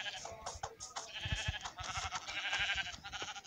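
Repeated sheep bleats in Minecraft, several in quick succession, set against a busy layer of synthetic game sounds, with no talking.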